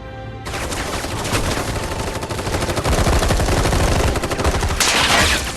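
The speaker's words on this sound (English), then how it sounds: "Whole freaking army unloading on my position." Dense, sustained gunfire from an army in the video game Final Fantasy 7 Rebirth, a loud continuous barrage of machine-gun bursts and shots with no pause, swelling slightly louder toward the end.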